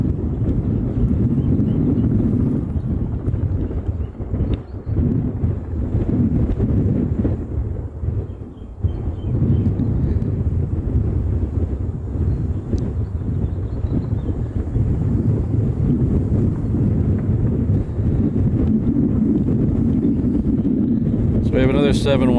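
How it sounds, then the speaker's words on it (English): Strong gusty wind at Maui's Kahului airport batters the microphone in a loud continuous roar with buffeting surges, and someone talks throughout over it. "it is a little windy today"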